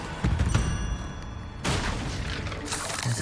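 Spell explosions in the video game Hogwarts Legacy, loud booming blasts in quick succession amid dense combat effects and rumbling, with no speech.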